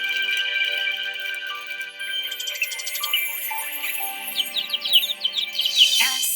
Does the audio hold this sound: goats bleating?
no